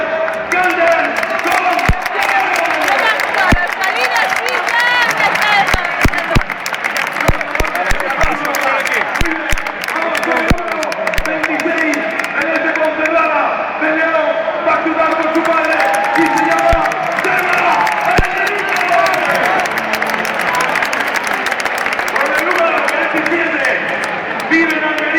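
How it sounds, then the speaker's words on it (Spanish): A large crowd at a sports event applauds and cheers for a player, a dense, loud wash of clapping and voices that runs steadily throughout, with an announcer talking over it. "pido un fuerte aplauso para él"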